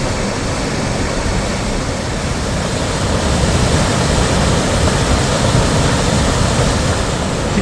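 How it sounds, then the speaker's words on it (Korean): Roaring waterfall on the Hantan River swollen after heavy rain, a dense, constant broadband rush of falling water, loud and close throughout with no voices. "오늘은 수량이 많고 물소리가 우렁칩니다."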